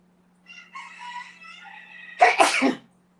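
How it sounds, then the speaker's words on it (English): A drawn-out, whiny vocal build-up ends in one loud, close sneeze, followed by silence. "Oh, I got to sneeze now."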